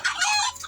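A single loud, close chicken call, a short raspy squawk-like cluck lasting under a second.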